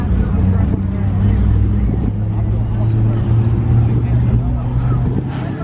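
Several cars idling and moving at an evening car meet in a mall parking lot, a steady low engine rumble with passing vehicles, under people talking nearby.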